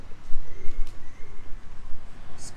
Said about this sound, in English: Sky rats is what they call pigeons